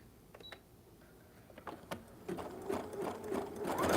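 A domestic sewing machine stitches a zigzag seam on a scrappy autumn zipper pouch, starting with a few soft clicks and then building into a steady, rapid mechanical whir that grows louder and closer toward the end.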